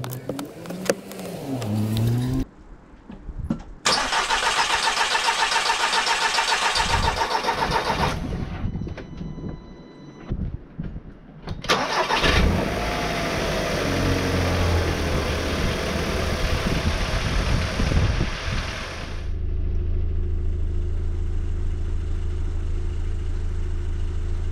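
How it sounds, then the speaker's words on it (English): A 2-litre TFSI engine in an Audi TT MK2, just refitted with a new oil pickup pipe, cranks and catches, then settles into a steady idle. It briefly drops away and restarts, and the idle carries on loud and close to the end. "we're going to run the engine, and fingers crossed for no leaks"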